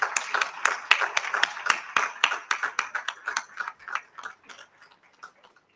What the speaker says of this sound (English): a huge, huge round of applause for attaining the status of fellowship